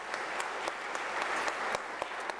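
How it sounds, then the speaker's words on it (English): An audience at a university graduation ceremony applauds with a steady wash of clapping and a few sharper individual claps standing out. "And I think this requires an applause because it's an inventive spirit of Africa."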